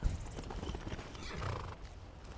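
Horse hoofbeats from the video game Skyrim, a quick steady clip-clop of a ridden horse close by, with a brief whinny near the start, heard alone with no talk.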